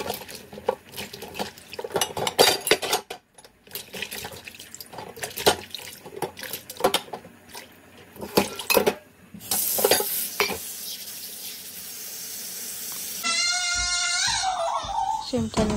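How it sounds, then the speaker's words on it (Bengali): Green beans being washed in water, with sloshing, splashing and stirring sounds up close under a voice, ending with a steady stream of running water. "শিমটা আমি ভালোভাবে ধুয়ে নিলাম।"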